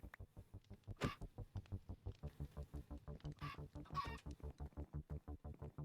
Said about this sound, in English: Well, there's already so many chickens running around.